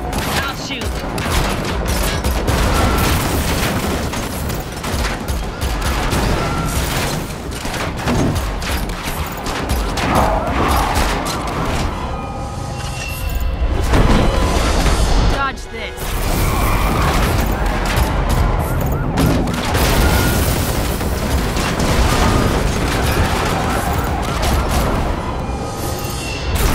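Gunfire in The Matrix Awakens Unreal Engine 5 demo, a dense, loud, nearly continuous fusillade of shots with crashes and booms layered throughout.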